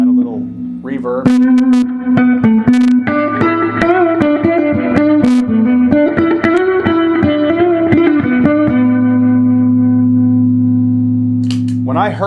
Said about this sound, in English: Add a little reverb.